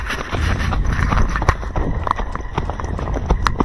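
Horse hooves clatter in quick, uneven beats close by, mixed with rustling movement and a faint voice in the background.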